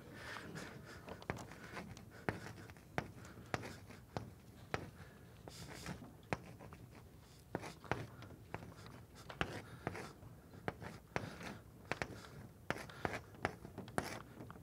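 Someone writes out a physics Lagrangian by hand, probably chalk on a board, with a long run of short, irregular scratching and tapping strokes over a low, steady room hum. No speech.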